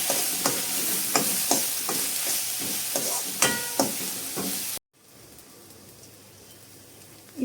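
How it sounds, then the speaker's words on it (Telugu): Garam masala and fresh ginger-garlic paste stirred into cooked onions in a pan, repeated scraping strokes over a rain-like sizzle, near and moderately loud, then an abrupt cut to quiet background. "గరం మసాలా, ఫ్రెష్ అయిన అల్లం వెల్లుల్లి పేస్ట్, మొత్తానికి ఒకసారి బాగా కలిపేద్దాం."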